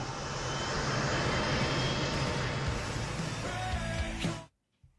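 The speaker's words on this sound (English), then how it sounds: "In the air, it's a MiG-29, a Ukrainian MiG-29, firing an R-73 missile to shoot down a Shahed drone." A Ukrainian MiG-29 jet flying at night and firing an R-73 missile at a Shahed drone: a loud, steady, close engine roar that holds for over four seconds, then cuts off abruptly into near silence.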